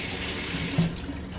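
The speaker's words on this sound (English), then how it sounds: "Wash my hands." Tap water runs steadily into a sink as hands are washed, a close, full splashing rush with a slight shift midway.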